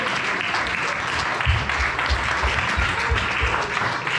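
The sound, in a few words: congregation applauding to acclaim the Lord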